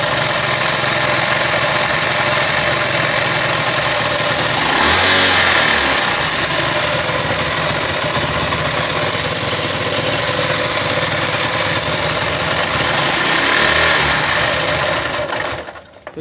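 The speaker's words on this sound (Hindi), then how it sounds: "इसकी टाइमिंग चैन भी बहुत आवाज़ कर रही है" A Chinese motorcycle engine runs steadily and loud with a noisy timing chain, giving a constant clattering mechanical rattle and a brief rev near the middle before cutting off at the end.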